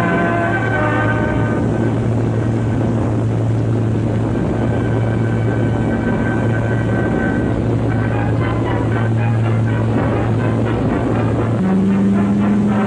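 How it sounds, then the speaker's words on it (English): Navy carrier planes make a low-level training attack, a continuous loud droning roar of propeller engines with a steady low hum and shifting engine tones, no voices. "the carrier planes roar in low-level attacks"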